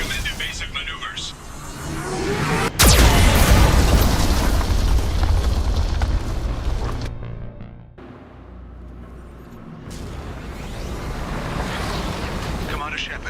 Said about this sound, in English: Geth cannon is locking on our location.